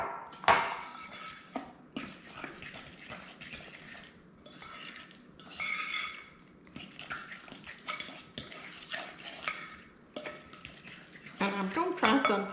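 A spoon stirs milk into a sweet potato biscuit mix in a bowl, giving a run of irregular scraping and clinking bursts broken by short pauses.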